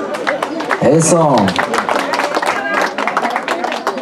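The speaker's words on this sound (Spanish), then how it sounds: "escuchen fuerte los aplausos, a ver, fuerte los aplausos" Guests at a civil wedding ceremony clap loudly in a sustained burst of applause, with people talking over it throughout.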